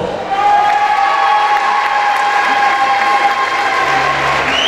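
Audience applause for the first candidate at the Miss Oise 2022 pageant, a steady sustained wash of clapping and some cheering lasting several seconds, with a tonal hum underneath.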